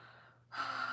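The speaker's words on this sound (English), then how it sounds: "Another yawn." A person yawning nearby: a quiet drawn-in breath that opens into a louder, breathy exhale, alone with no talking.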